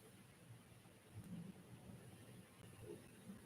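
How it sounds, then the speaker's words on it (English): Distant thunderstorm approaching, faint low rumbles of thunder rolling under a soft steady hiss of rain and wind, with a few swelling bursts. "A wicked thunderstorm is heading my way."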